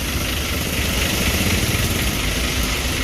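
A Hino RG bus engine idles nearby with a steady, even rumble and a broad hiss on top, running continuously at a constant level for about three seconds with no talk.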